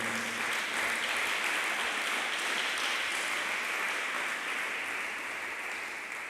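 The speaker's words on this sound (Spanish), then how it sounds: "¿Cuántos le dan un aplauso al Señor?" A church congregation applauds during a sermon, a continuous wash of clapping from many hands that holds steady and fades slightly at the end, with a brief word spoken over it.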